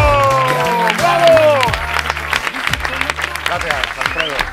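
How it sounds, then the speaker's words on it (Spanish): An audience on a Spanish comedy show breaks into loud, steady applause as a voice speaks and exclaims over it. "Un fuerte aplauso a esta pareja que se quiere."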